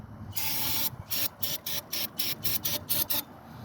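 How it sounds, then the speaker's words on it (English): A series of short aerosol cleaner spray bursts into a Triumph Tiger 1200 Explorer fork, one long hiss followed by about eight quick rhythmic pumps, close by with no talking. "I'm going to spray in here."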